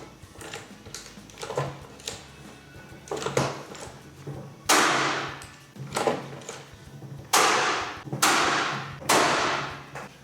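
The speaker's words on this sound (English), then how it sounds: "flip it back over on its face, and install the rivets" Rivets being set on a Coleman lift arm bracket: a series of sharp metallic strikes and thuds, irregular at first, then heavy, separated impacts close by.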